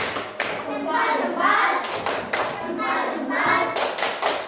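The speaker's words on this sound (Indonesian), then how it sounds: "tepuk tangan untuk kalian semuanya" A class of children claps together in bursts, loud and close, with children's voices mixed in around the clapping.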